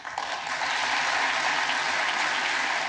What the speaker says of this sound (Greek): Νάνση Πελόζη, χειροκρότησαν θερμά πολλές φορές τον Πρωθυπουργό και έδιναν τον τόνο για να ακολουθήσει όλη η αίθουσα του Κογκρέσου.